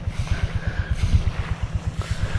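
A small boat engine chugging loudly and steadily, its rhythmic low thumping joined by wind noise.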